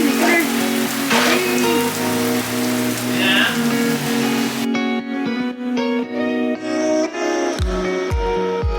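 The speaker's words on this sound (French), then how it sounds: "La pluie de la pluie." Rain falls steadily during a family trip in Florida, a dense close hiss for the first half that then cuts to a quieter scene with scattered thumps and faint voices.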